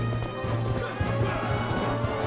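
A horse gallops in Zelda: Twilight Princess, its rapid rhythmic hoofbeats close and loud, with game sounds and a player's talk underneath.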